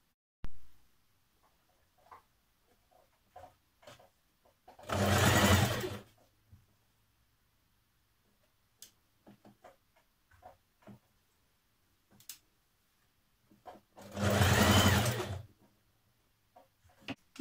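A sewing machine stitches trouser fabric for a Simplicity 8389 trouser pattern in two short, fast whirring runs about ten seconds apart, with soft handling clicks and taps between them.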